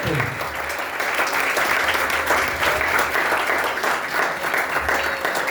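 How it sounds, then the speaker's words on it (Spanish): A congregation applauds loudly for Christ during a Spanish-language church sermon, a dense, steady wash of clapping that fills the space throughout. "Dale un fuerte aplauso a Cristo por eso."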